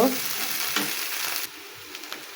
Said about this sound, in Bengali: এ পর্যায়ে দিয়ে দিচ্ছি এক চা চামচ জিরে বাটা জিরেটা এর সাথে মিশিয়ে নেব